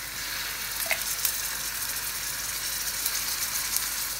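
Garlic ginger paste frying with onions in a pan for kadhi pakora gives a steady, close hiss with a few soft clicks and clatters and no voices.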